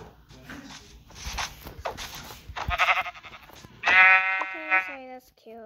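Sheep bleating in a video game, a loud wavering bleat near the end after a run of footstep-like crunches and game noises, with someone talking over parts of it.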